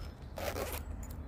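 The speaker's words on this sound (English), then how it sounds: "two-way zips," A two-way zip on a Snugpak tropical hammock pack is pulled in one short, quick zipping stroke, close and fairly quiet.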